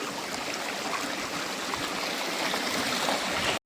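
A muddy, silt-laden stream runs beside green farm fields in rural Konkan after a downpour, its steady close rushing and gurgling continuous and alone, with no voices.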